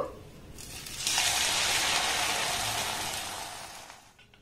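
Coconut-filled dalia pitha frying in hot oil gives off a steady, hissing sizzle. It swells suddenly, holds for a few seconds, then slowly fades.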